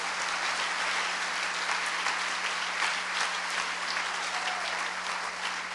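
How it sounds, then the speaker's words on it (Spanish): Sustained applause from a church congregation, steady and dense clapping filling the whole stretch without pause. "Démosle un aplauso al Señor, hermanos, si usted lo cree."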